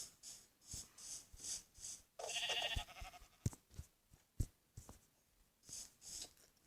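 Sheep bleating in the Minecraft video game, several short repeated bleats spaced across the span alongside game clicks and a brief louder burst of noise, with no talking.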